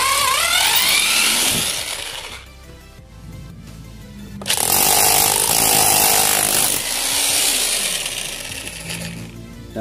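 A Dekwe hammer drill fitted with a chisel bit for mountain stone hammers against foundation stone, loud and harsh in two long bursts with a quieter gap between them.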